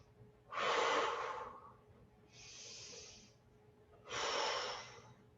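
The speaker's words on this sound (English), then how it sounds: "Breathe in. Breathe out." Deep breaths during a guided stretching and mobility session: three audible breaths, a strong inhale, a softer exhale-like breath, then another strong one, close and clear with no talking.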